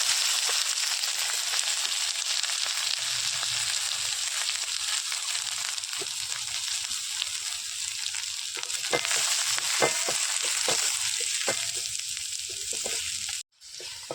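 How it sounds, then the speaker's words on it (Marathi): Onion frying in hot tempering oil for a Marathi pumpkin-flower vegetable dish, a steady loud close sizzle that crackles on throughout before cutting off sharply near the end. "फोडणे कांदो टाकतो"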